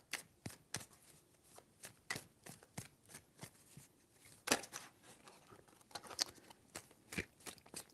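Tarot cards are shuffled in a quick series of crisp riffling snaps and shuffs, evenly spaced and close, with no voices.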